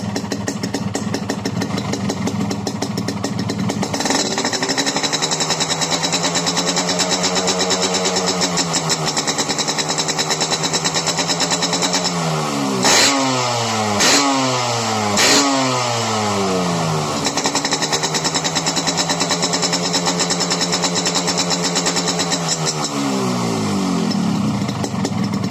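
A Yamaha RX King two-stroke motorcycle with a new CJDW muffler that has three baffles idles close by, then revs repeatedly in sharp bursts around the middle before settling back to a steady, loud burble.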